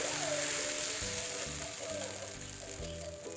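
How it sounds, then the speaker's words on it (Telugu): A ladle of foxtail millet dosa batter sizzles steadily on a hot pan, a continuous close frying hiss with faint scraping of the ladle as it is spread. "ఒక గరిటెడు పిండిని పెనం పైన వేసి దోశలాగా రుద్దుకోవాలి"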